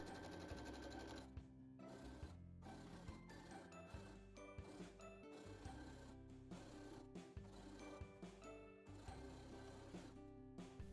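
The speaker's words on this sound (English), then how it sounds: "we're going to head to the sewing machine and sew that whole row closed" A sewing machine stitches a stuffed row of charm-square fabric closed with a quarter-inch seam, running loudly and steadily, its needle chattering on and off throughout with brief pauses.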